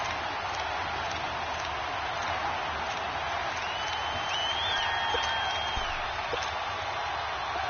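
Stadium crowd noise from a football video game on PS4, a steady broad roar with murmuring cheers rising slightly as a big third down approaches, continuous and moderately loud throughout.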